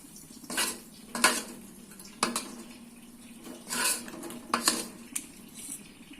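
Metal utensil scraping and clinking against a pan in several distinct bursts, close and fairly loud, as fried noodles and oil are stirred, with no talking.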